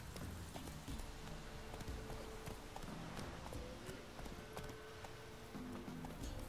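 Geralt's horse Roach in The Witcher 3: Wild Hunt, hooves clip-clopping in a steady walking rhythm, quiet and continuous beneath game music and ambience.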